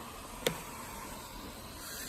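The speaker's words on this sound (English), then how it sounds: "you will get an alarm saying AC power disconnected" Ventilator unplugged from its AC power socket sounding an electronic alarm, a brief faint tone followed moments later by a sharper, louder beep at the end, over a quiet steady machine hum.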